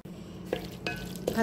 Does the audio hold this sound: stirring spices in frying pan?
yes